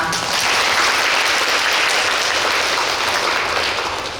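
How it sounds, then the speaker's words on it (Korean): An audience at the opening of a donated-artifacts special exhibition at the Daegu textile museum gives a warm welcoming round of applause, steady and dense for about four seconds before tapering. "소개할 때 환영의 박수로 맞아주시면 감사하겠습니다"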